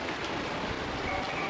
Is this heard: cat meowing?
no